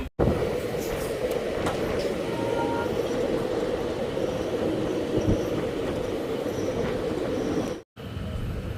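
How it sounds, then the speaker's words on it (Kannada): A passenger train rolls into Challakere railway station, a loud steady rumble of wheels and carriages heard from inside the coach, with a brief dropout near the end, while a voice speaks faintly beneath. "ಫೈನಲಿ ನಮ್ಮ ಟ್ರೈನು ನಮ್ಮ ಚಳ್ಳಕೆರೆ ರೈಲ್ವೆ ಸ್ಟೇಷನ್ಗೆ ಎಂಟ್ರಿ ಆಗ್ತಿದೆ"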